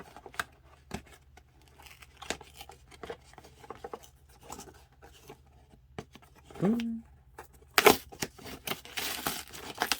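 Cardboard and plastic packaging of a Miraculous Ladybug toy box being ripped open by hand, with a sharp tearing burst near the end among scattered handling rustles and crinkles.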